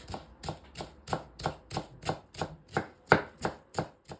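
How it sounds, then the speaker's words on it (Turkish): A knife finely chops parsley on a board, about a dozen crisp, evenly spaced strikes in a steady rhythm, close and clear with no talk. "Maydanozumuzu da ince ince kıyıyoruz."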